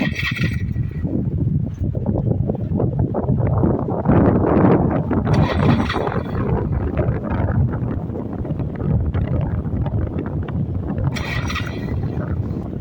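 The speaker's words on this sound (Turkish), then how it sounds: "burada rüzgar bayağı bir arttı" Strong wind roars and buffets the microphone continuously during paramotor setup, with loud rumbling gusts and faint rustling and clanking in the background.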